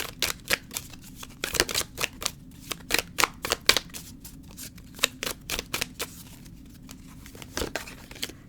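Tarot cards being shuffled and drawn, a run of sharp, close riffling snaps and flicks coming in irregular bursts, with brief quiet gaps between them.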